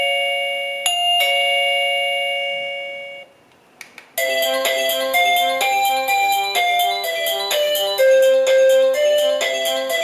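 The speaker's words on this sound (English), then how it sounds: "if there's no smartphone nearby, then the chime is ringing. It is quite loud" HeimVision HMB1 wireless video doorbell chime rings loudly: a two-note electronic ding tone, a brief pause, then a longer bright melodic tune played through the chime unit, clear and close with no voices.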